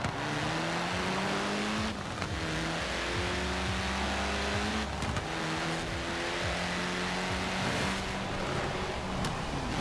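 In the racing video game Forza Horizon 4, several cars launch at a race start, engines revving hard through repeated upshifts in a continuous loud, layered roar.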